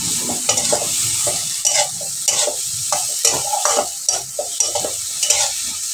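Prawns sizzle and fry in a pan with salt and turmeric while a spatula stirs them in repeated scraping strokes over a steady hiss, close and fairly loud, with no talking.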